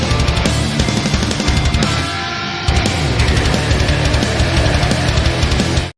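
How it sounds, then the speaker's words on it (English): Dense, loud distorted metal guitar from DevilDriver's "Clouds Over California" churning through fast, hard-picked palm-muted chugs with drums, a short break in the middle before the riff slams back in. "listen to how articulate these chugs are"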